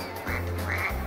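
Ducks quacking at an outdoor summer game-show event, a few loud nasal quacks in quick succession over a low background hum.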